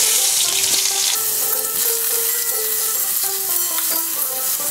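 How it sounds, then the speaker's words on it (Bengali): Raw mango pieces sauté in mustard oil in a pan, a loud, close, continuous frying sizzle with steady crackle and occasional stirring scrapes. "আমটা কষে নেব"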